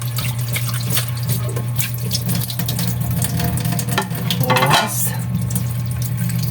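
Shrimp being washed under a running kitchen tap, a steady close stream of water into a sink with splashing and a brief louder gush near the end, no talk.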